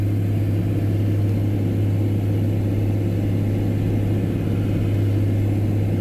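A John Deere 4650 tractor engine labors while pulling a DMI ripper, a steady, loud, close diesel drone with a strong low hum that holds constant throughout.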